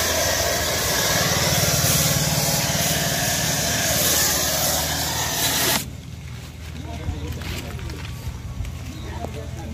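A touchless pressure washer blasts water under a tractor's engine with a loud, steady hissing roar for about six seconds, then cuts out abruptly, leaving quieter background noise as someone talks.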